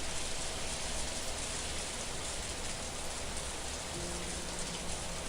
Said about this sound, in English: It was raining and windy, but it didn't mean my body got wet.